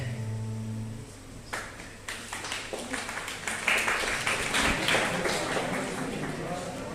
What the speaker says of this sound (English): Thank you from Notes side for the claps.